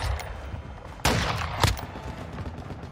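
Chopper gunner fire in Call of Duty: Modern Warfare 2, with a sharp blast at about one second and another burst shortly after, over a steady background of distant battle noise.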